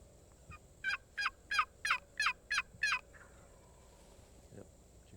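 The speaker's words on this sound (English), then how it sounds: "see if we can get these birds to gobble out of this roost in here" Wild turkey gobbling from a roost, seven quick gobbles in a rapid rhythmic burst, moderately distant and clear against quiet outdoor ambience.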